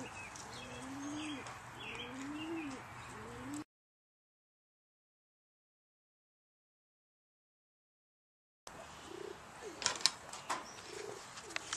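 Doves coo in repeated soft, low, rolling calls, with other birds chirping faintly around them. There is a stretch of silence midway, and then sharper bird sounds and light clatter return.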